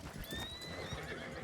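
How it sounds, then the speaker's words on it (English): Red Dead Redemption 2 game audio: a horse whinnies with a rising neigh over clopping hooves, fairly faint and without speech. "Come back, horse."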